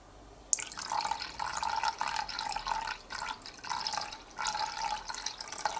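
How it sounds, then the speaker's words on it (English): Descaler is poured into plain lukewarm water to make a cleaning solution for a Siemens EQ.300 coffee machine, giving close, faint splashing and trickling in several short bursts after a quiet start. "We need 50 milliliters add to plain lukewarm water."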